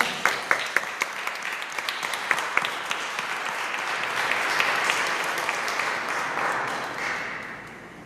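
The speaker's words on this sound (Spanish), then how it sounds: "Le damos aplausos." A congregation at a Catholic Mass breaks into applause, starting with a few sharp separate claps that swell into a steady, fairly soft wash of clapping filling the church.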